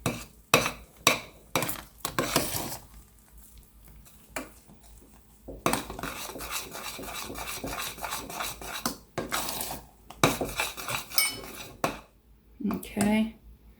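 Butter mixed into cream in a pot for a Napoleon cake, with irregular bursts of scraping, clinking and stirring against metal between pauses, and someone talking at times.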